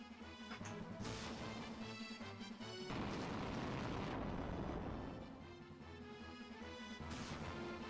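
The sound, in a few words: Fire spell cast in Final Fantasy II video game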